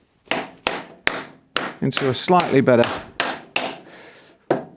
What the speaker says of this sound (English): we just get a hammer, because I think I can probably persuade these